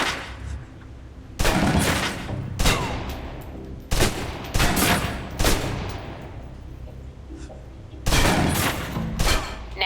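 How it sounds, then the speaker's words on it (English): Submachine gun emptying its magazine in the video game Alpha Protocol, heard as several loud bursts of rapid automatic fire with short pauses between them, close and harsh, mostly alone with no talk over the shots. "Now, let's move on to the submachine gun. Now let's empty the clip."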